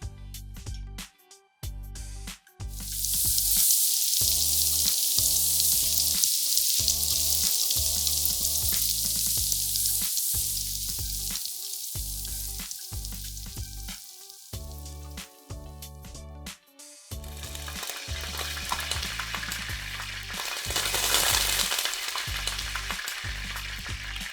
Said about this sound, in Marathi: त्याच्यामध्ये आपण तूप टाकू आणि शॅलो फ्राय करून घेऊया.